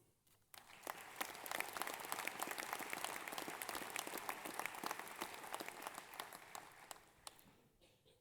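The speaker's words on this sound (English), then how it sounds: "keep clapping as they walk across if you like." Sustained applause fills a Massey University graduation ceremony hall in Manawatū, a steady wash of many hands clapping at moderate distance that swells quickly, holds, then tapers off.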